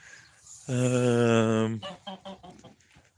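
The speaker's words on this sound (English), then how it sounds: "Here are some chickens." Chickens at an animal sanctuary give a loud, sustained squawking call lasting about a second, followed by a quick run of short, close clucks.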